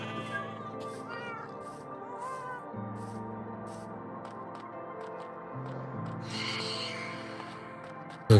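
A cat meowing in the Minecraft video game, repeated short mews over a steady background music bed, with no talking.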